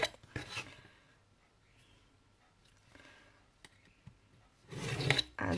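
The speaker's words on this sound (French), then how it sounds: "Alors, je tire mes traits, je fais les plis en fait." Fold lines are scored into paper with a scoring tool in several short scraping strokes, quiet and close, with pauses between the rubs and a longer, louder pass at the end.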